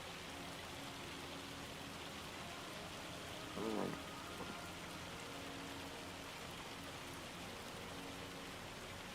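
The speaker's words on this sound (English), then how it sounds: "It's still hailing really hard over here." Heavy hail falls in the Farming Simulator 25 video game as a dense, steady hiss of pelting ice that continues evenly throughout, with a brief louder burst partway through.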